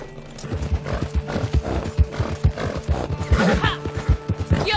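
Hoofbeats of a horse at a gallop in the Western video game Red Dead Redemption 2, a steady drumming of clip-clops with a neigh rising over it, close and fairly loud amid game sounds.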